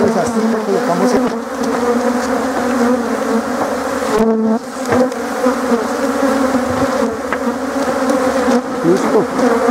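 Honeybees buzz densely at an open beehive while a super is being added, a loud, continuous close-up drone of many insects with no talk.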